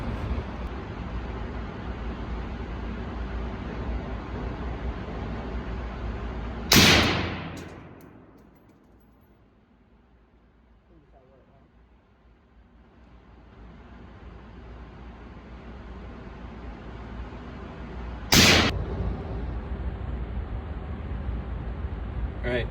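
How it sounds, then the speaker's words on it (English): Two sharp, loud rifle shots about twelve seconds apart ring out while a rifle is sighted in at an outdoor range, each followed by a short decay over a steady background hiss. "let's get Miss Deb on the rifle."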